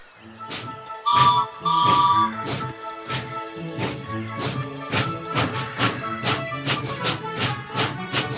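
A short steam engine whistle blows twice near the start, followed by a rhythmic run of sharp, repeated musical hits.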